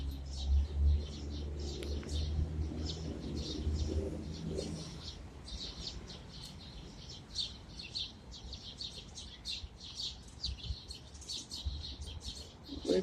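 Birds at a nest in an urban city chirp and call repeatedly, high and fairly faint, in a steady scatter of short notes. A low rumble fades out early on.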